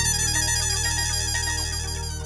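A phone ringtone plays in a household scene, a loud, steady electronic melody sounding continuously and close with no talk over it.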